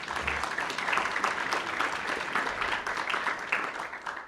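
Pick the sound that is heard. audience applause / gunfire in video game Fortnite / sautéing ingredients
audience applause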